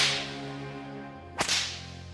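A single sharp whip crack lands near the middle, loud and close, standing out over a steady droning musical bed, evoking Roman scourging whips.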